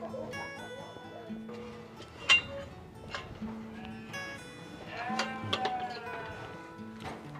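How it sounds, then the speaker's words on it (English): A flock of Valais Blacknose sheep, females in a roundhouse barn, bleating in scattered overlapping calls, some near and some farther off, against a quiet indoor background. "behind me you can see our flock of Valais"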